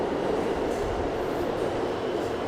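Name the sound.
New York subway F train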